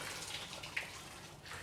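Water splashes and pours into buckets on a medieval-style farm, a faint, diffuse rush with a small splash partway through, no talk.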